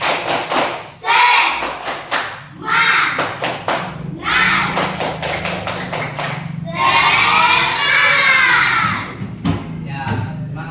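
Classroom children performing the rhythmic tepuk semangat clapping chant, sharp bursts of claps in patterned groups alternating with loud chanted voices and a final cheer, close and energetic.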